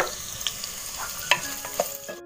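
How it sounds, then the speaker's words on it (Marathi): Chopped onion fries in oil with cumin and bay leaf in a pan for egg biryani, a soft steady sizzle broken by a few sharp clinks of a spoon stirring against the metal. "कांदा थोडा आपण लाल करूया."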